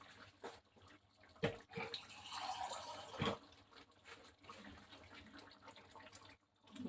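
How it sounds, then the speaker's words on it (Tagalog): Hot water is poured into a pot of chicken curry, giving a faint, uneven splashing and trickling with a few sharper knocks, close by and quiet. "dinagdagan ko ng hot water"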